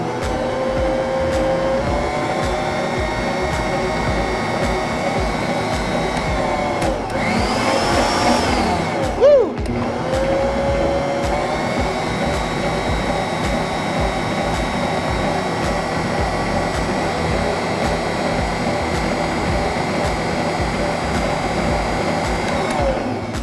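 A Bosch Universal Plus stand mixer runs with yeast and sugar in the bowl, a loud, steady motor whir that keeps going throughout, with a brief surge and a clunk partway through.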